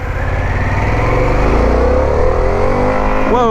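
A Harley-Davidson Pan America motorcycle accelerates hard in sport mode through second gear, its engine note climbing loud and close over rushing wind.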